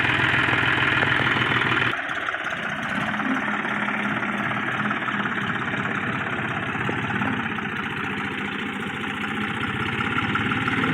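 A four-wheel-drive farm tractor engine labours steadily under load as it climbs, a continuous loud mid-to-low rumble with a brief dip in intensity early on, no voices.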